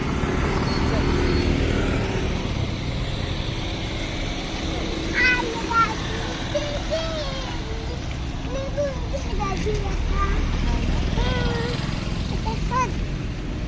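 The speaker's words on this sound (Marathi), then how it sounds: "खूप गाड्या असतात पुढून येतात मागून येतात सगळीकडनं गाड्या येतात ना" Steady road traffic rumbles on every side as vehicles keep passing, a constant low drone with people talking over it.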